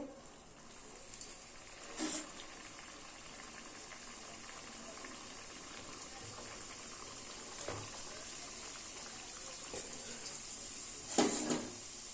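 Green pea kochuri frying in hot oil in a kadai, giving a steady, soft bubbling sizzle with a few brief clinks and pops scattered through.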